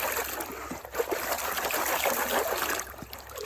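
Water washing gold-bearing material through a super sluice with big riffles, a steady close trickling and splashing flow with no voices.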